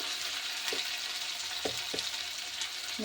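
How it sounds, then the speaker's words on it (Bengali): Spices with turmeric powder and salt fry in a pan for a potato and pea curry, a steady close sizzle with a few soft scrapes of stirring. "তারপরে একটু নেড়ে চেড়ে নেব, ভালো করে নেড়ে নিলাম।"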